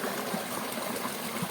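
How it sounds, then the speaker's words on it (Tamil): Steady broadband rush of water pouring down a hillside waterfall in the hills near Pollachi, a continuous, fairly close roar with no voices over it. "இப்போ தண்ணி சவுண்டு கேட்குதுங்களா?"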